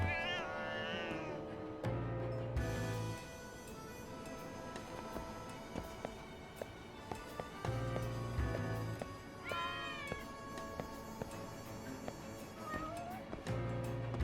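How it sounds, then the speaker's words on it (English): Several cats meow and caterwaul in the video game Lost Judgment, their calls rising and falling over steady game music and ambience, with one prominent meow near the start and another around the middle. "Hello, cat."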